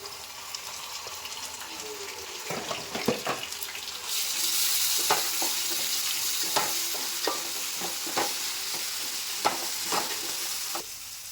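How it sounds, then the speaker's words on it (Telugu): Onions and fenugreek frying in a pan, a bright hiss that swells louder after a few seconds, punctuated by regular spatula scrapes and clicks close by. "మెంతి ఉన్న ఉల్లిగడ్డ ఫ్రై అయ్యేంతసేపు మంచిగా బ్రౌన్ కలర్ వచ్చేదాకా ఉండాలి"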